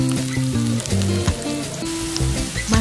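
Loud, steady sizzling of ginger frying with garlic and onion in a hot pan, with crackling spatter and a few clanks of a utensil stirring.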